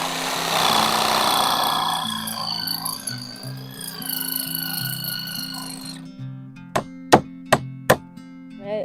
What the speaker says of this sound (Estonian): Nüüd saab siit maalt lihtsalt kiiresti ära saagida ja kohe laud paika panna.